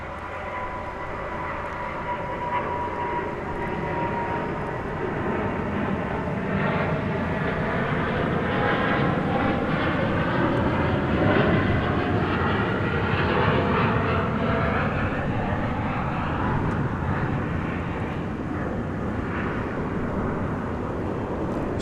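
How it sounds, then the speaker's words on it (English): A Qantas airliner takes off at night from DFW Airport, bound for Sydney, with a loud, sustained jet engine roar and slowly shifting whine that builds and then holds steady, with no talk. "Spirit of Australia, now airborne, with a very long flight to Sydney."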